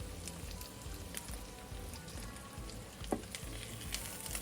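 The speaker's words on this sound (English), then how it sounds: "And now you just take your spatula, go underneath your egg" A spatula scrapes and slides beneath an omelette frying in a pan, amid a steady close sizzle with a brief sharp scrape partway through.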